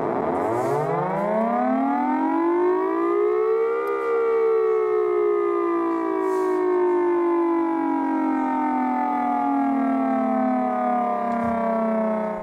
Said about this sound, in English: the Salcom engineers are busy packing up a tsunami warning system